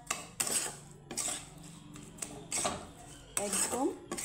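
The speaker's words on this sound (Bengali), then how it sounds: "একদম লো আছে এইভাবে নাড়িয়ে চাড়িয়ে দিতে হবে।" Paneer coated in sugar being stirred in a pan over low heat, with a utensil clinking and scraping against the metal in a few short bursts close by, and quieter stretches in between.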